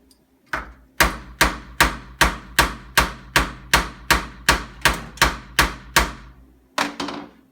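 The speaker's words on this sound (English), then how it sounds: "This is just a ball peen hammer." A ball peen hammer strikes a rivet on a clutch hub being fitted with new cushions, about fourteen sharp metallic blows in a steady, even rhythm, close and loud, with no talking.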